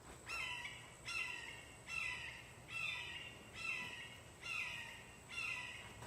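A hawk calls out beside a backyard garden bin: seven harsh, evenly spaced cries, each about half a second long and repeated roughly every 0.7 seconds, heard from moderate distance over a faint low hum.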